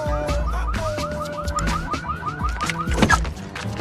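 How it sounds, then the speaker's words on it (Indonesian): A car alarm blares continuously, cycling through rapid warbling and whooping tones, loud and steady with no voices. "kesusahan karena alarm mobilnya terus berbunyi"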